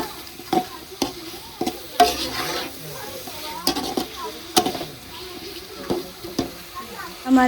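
Potatoes fry with spices in a pan, a utensil stirring through them in repeated scraping strokes over a steady close sizzle, with occasional clinks against the pan.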